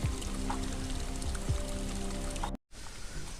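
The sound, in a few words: filling a gallon can with water at a spring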